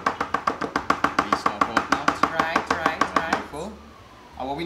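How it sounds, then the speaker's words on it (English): A spatula taps against a mixing bowl of sponge cake batter about twenty times in a quick, even rhythm of close sharp knocks, then stops and another sound follows. "So just tap the spatula against just to get some of it."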